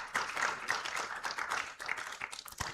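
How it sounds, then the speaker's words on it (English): An audience at a World Environment Day debate and symposium claps in a short, dense burst of applause, many hands patting irregularly at moderate volume. "A round of applause for GAYU."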